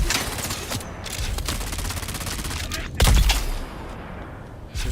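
Pistol gunfire in Dune Awakening, sounding as repeated rapid shots in quick bursts with a heavier crack near the end, loud and close over background game noise.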